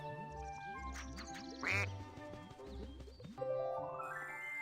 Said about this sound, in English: Oh, yeah, quackberry. Look at that face. That is a duck.